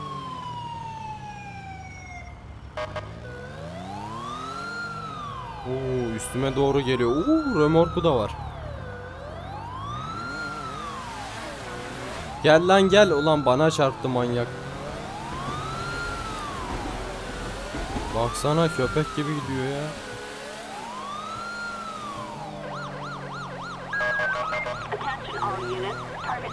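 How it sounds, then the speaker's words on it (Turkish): A police car siren in the video game GTA 5 with a police patrol mod wails in a steady, repeating rise-and-fall pattern, loud and close, while someone talks excitedly over it and engine and crash noises cut in. "Aç sirenleri."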